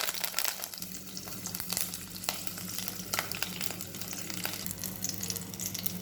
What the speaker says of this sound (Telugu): ఇప్పుడు ఈ హీట్ అయిన ఆయిల్లోకి మనం ఇంగ్రీడియంట్స్ వేసేసుకోవటం